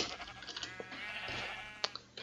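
Sheep bleating in the video game Minecraft, several short quiet bleats in quick succession, close and alone without speech.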